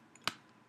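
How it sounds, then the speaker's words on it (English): One crisp key press on a computer keyboard, typed while entering a command on a Windows PC; a single faint, sharp click with quiet room tone around it. "type CMD and the enter key"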